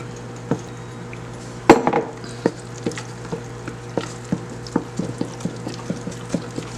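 A utensil stirs browning into a black cake mixture in a bowl, giving regular scraping knocks against the sides, about two per second, with one louder clatter early on.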